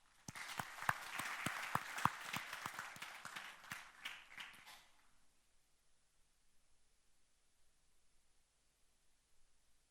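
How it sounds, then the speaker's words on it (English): Applause from a crowd at a Department of Science budget vote event, with sharp individual claps, lasting about five seconds before fading out to quiet room tone. "a round of applause for my panelists"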